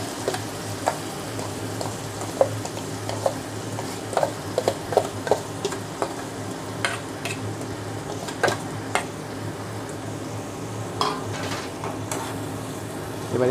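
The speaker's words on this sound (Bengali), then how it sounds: "এবার এটাকে ভালো করে আমি ফ্রাই করে নেব, মানে পাক দেওয়ার মতো।" Soybean cutlet paste frying in a pan while being stirred, with a steady sizzle broken by scattered scraping clicks of the spoon against the pan; no one speaks.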